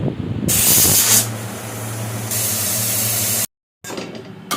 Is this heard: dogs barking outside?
no